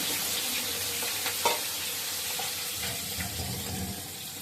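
Salted, turmeric-coated prawns sizzle in hot oil in a home kitchen, giving a steady, close crackling hiss with occasional louder spits and pops throughout.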